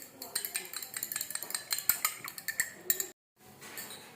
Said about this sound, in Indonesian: Kemudian kita aduk juga.